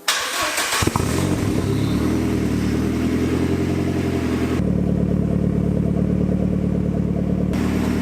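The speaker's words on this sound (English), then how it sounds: "Let's get this started up." A Ford Escort RS Cosworth engine cranks briefly then fires up, settling into a loud, close, steady rumbling idle with a throaty four-cylinder burble that holds on, alone without talk.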